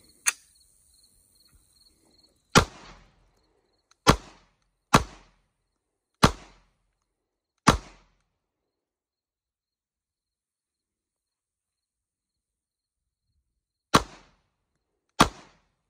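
Sig P320 Compact pistol fired with a Streamlight TR1 light attached, six sharp, loud shots spaced a second or two apart, then a long pause before two more shots, each with a short echo tail.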